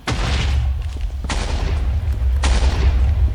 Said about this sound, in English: Okay, I hear explosions